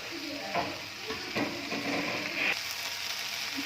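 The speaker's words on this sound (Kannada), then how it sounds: "ಈ ಮಸಾಲೆ ಎಣ್ಣೆಯಲ್ಲಿ ನೀಟಾಗಿ ಫ್ರೈ ಆಗೋವರೆಗೆ" Masala frying in oil in a pan for crispy chicken chaps, a steady soft sizzle with a few stirring scrapes and clinks standing out at intervals throughout.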